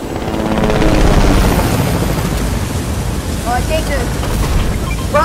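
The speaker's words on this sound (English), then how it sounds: "Oh, you came with chopper, huh?" A helicopter in the video game Fortnite whirs loudly and steadily with a dense rotor wash throughout, while a player's voice briefly talks over it.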